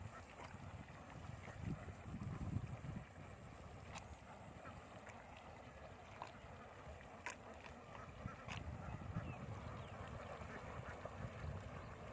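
Ducks quacking in a noisy outdoor setting, with wind rumbling across the microphone and scattered calls over a continuous low background.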